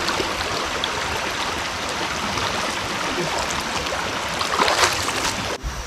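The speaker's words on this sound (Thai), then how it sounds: "ได้ยินเสียง ลำธารหรือว่าสายน้ำไหล" Steady rushing of a cold, clear stream flowing over rocks, a continuous broadband wash of water that stays close and fairly loud throughout, with a slight swell near the end.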